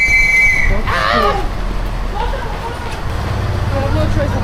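A train waits at a busy German railway platform, a brief high whistle or squeal and a low rumbling hum under the bustle, with people talking nearby.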